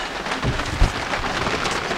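Steady rain pours down during a thunderstorm while a boat rides at anchor, with a dull low thump of thunder briefly rising out of the constant hiss.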